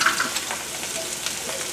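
Ginger frying in hot oil for a shrimp dish makes a steady, soft hissing sizzle that runs throughout without speech.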